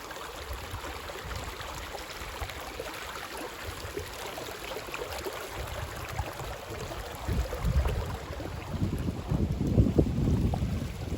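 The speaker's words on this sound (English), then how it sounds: "They said it was supposed to get really windy today, but so far it's just been some gusts" Wind gusts rush through an autumn forest in the Allegheny National Forest, buffeting the microphone with a low, uneven roar that swells louder toward the end; no one speaks.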